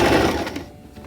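Sewing machine stitching shower curtain fabric, backstitching to lock a tighter seam; a short, steady whirring run that is loudest at the start and tapers off near the end.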